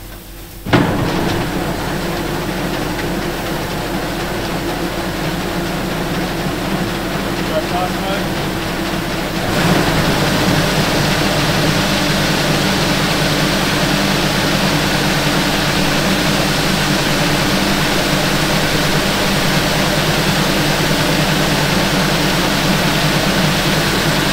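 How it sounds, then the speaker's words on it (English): A grain auger on a seeding rig during barley seeding in Western Australia runs as a steady, loud mechanical drone, then rises and grows brighter about nine seconds in and continues unbroken. "Start the auger."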